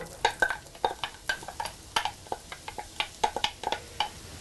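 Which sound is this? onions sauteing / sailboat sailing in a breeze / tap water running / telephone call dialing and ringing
onions sauteing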